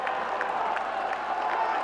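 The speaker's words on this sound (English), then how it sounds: "round of applause from his teammates" Steady applause from teammates and a small crowd at a Test cricket match between Bangladesh and Ireland, marking the Bangladesh captain's century, continuous and moderately loud across the clip.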